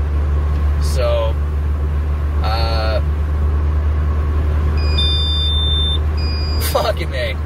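A manual-transmission car driving down a road, its engine a steady low hum throughout, with a few short squeaky tones and beeps cutting in over the top.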